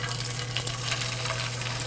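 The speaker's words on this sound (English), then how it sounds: "you'll hear that little bit of sizzle" Skin-side-down Alaskan king salmon loin sizzles in a hot pan with a constant, even hiss and faint crackle, steady and close, over a low background hum.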